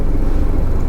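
Porsche GT3 RS engine idling after warm-up, a steady low rumble that holds even and fairly loud throughout, close by with no talk.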